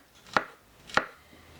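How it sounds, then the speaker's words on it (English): Knife chopping ingredients for a chicken and mushroom casserole, two separate sharp strikes on a cutting board about half a second apart, close and fairly quiet with no talk. "So this is going to be mostly all of the chopping."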